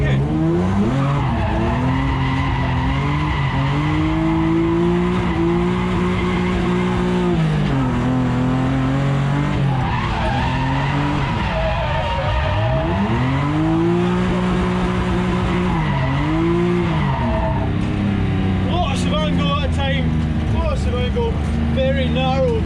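BMW E36 M3 drifting into a backwards entry on a track, its engine roaring and revving loudly throughout while the tyres squeal in long sweeping skids, with a person talking over the din.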